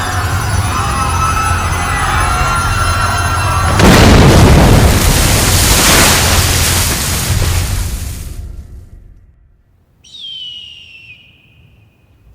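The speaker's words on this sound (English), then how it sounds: "One of the engines just exploded." A plane engine explodes and the aircraft crashes in an audio drama effect: a loud whining engine drone erupts into a big roaring blast that rumbles for several seconds, drops to near silence, then a high descending whistle follows.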